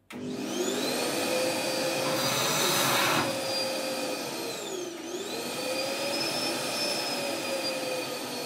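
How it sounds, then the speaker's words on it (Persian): An Ecovac bucket vacuum cleaner motor runs steadily with a high whine whose pitch dips and rises once midway, loud and close, with no talking. "حالا ما میریم برای تست جاروبرقی"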